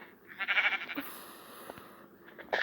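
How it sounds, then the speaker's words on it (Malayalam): Sheep bleating in the Minecraft video game, one wavering bleat near the start followed by quieter game sounds, with no talking. "ഇപ്പോൾ ഒരാട് താഴെ പോയതേ ഉള്ളൂ"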